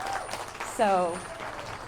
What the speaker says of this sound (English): let's give these youth a round of applause